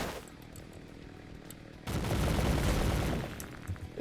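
Gunfire in the video game Slendytubbies, a quieter stretch followed by a sudden loud burst of rapid automatic fire that lasts over a second, then scattered shots trailing off.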